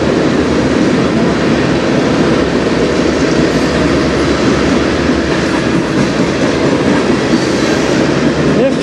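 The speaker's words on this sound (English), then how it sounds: "This train's the freight, the international freight, comes from the States through the tunnel" A CN international freight train passes close by on the Strathroy line, a loud continuous rumble of wheels and rail cars with steady clickety-clack, heard alone without any voices.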